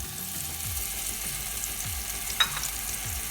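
Onion and garlic paste browning over low heat in a frying pan used earlier for salmon: a continuous soft sizzle with repeated low scraping strokes of stirring and one brief clink partway through.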